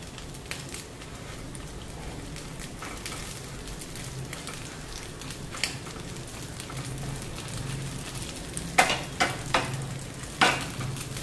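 Bread frying in a pan of egg on a gas stove, a steady soft crackling sizzle with scattered sharper pops and spatters toward the end, close by and with no talk.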